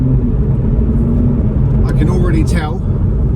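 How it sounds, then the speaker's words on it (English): A 2020 Toyota Supra fitted with a PCW exhaust cruises in normal mode, its low engine drone steady from inside the cabin beneath a voice talking over it. "Let's just take it for a quick drive, see what it sounds like from the inside. So we're just in normal mode at the moment."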